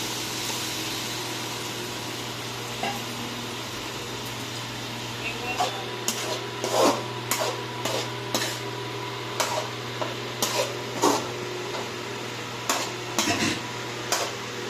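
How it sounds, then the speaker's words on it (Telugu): Marinated goat hearts are added to liver frying in a pan and stirred, giving a faint background sizzle followed by a run of sharp utensil clacks and scrapes against the pan. "ఇప్పుడు వచ్చేసరికి మనం మ్యారినేట్ చేసి పెట్టుకొని ఉన్న గుండెకాయల్ని వేసేసుకోవాలి."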